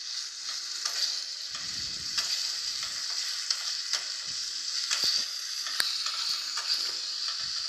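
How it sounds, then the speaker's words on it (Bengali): Ginger paste and tomato frying in a pan give a bright, continuous close sizzle, with light intermittent clicks and scrapes of stirring throughout and no voices. "এবার আমি এর মধ্যে আদা বাটাটা দিয়ে দিলাম, দিয়ে ভালো করে ফ্রাই করে নিতে হবে।"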